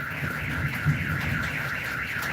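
A vehicle alarm sounds continuously on a rainy day, its siren tone rising and falling in a steady wailing cycle, fairly loud and close, with no voices over it.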